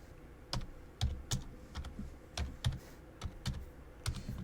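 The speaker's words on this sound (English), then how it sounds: "Sorry for the typing." Someone types on a computer keyboard nearby in quick, irregular bursts of sharp key clicks over a quiet room, with no talking.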